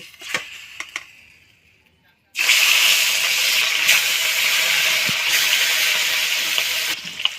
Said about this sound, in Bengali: তেলটা বেশ ভালো করে গরম হয়ে গিয়েছে এইবার মাছগুলো দিয়ে ভেজে নেব